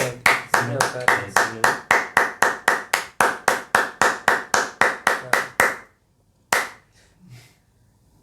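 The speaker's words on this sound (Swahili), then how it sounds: "Pigia makofi tena" Crisp hand claps in a quick, steady rhythm, about eighteen evenly spaced claps close by, then a pause, one more clap and some faint movement.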